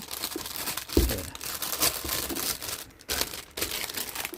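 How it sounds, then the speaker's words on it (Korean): Plastic bag crinkling as a coated roll of 500-won coins is slipped inside and wrapped, with close, irregular rustles and a few sharper crackles, no talking. "비닐에 하나 더 넣어가지고"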